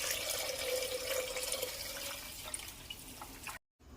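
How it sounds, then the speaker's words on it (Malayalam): Water is poured from close by into a pressure cooker holding rice, garlic, pepper, fenugreek and crushed dry ginger, a steady splashing rush that stops abruptly after about three and a half seconds. "വെള്ളം കൂടി ഒഴിക്കാം"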